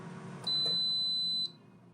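An air fryer timer gives a single sustained electronic beep, about one second long, clear and close over quiet room background.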